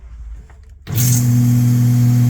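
After a quiet moment, the motor of a twin-nozzle Lechler sprayer switches on and runs with a loud, steady hum and whine.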